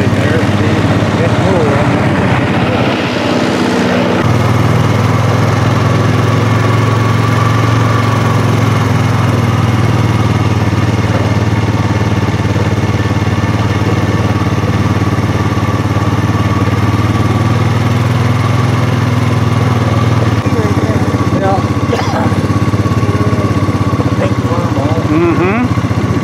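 An old hot-bulb oil engine runs at a steam and threshing show, a steady low chugging drone that carries through the whole stretch under faint outdoor background noise.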